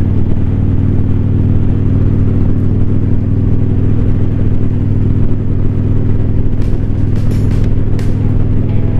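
Indian motorcycles, a Challenger and a Scout, out on a New Year's ride: a steady, loud engine drone with a deep rumble and constant road and wind noise, holding an even pitch throughout, a few faint ticks near the end.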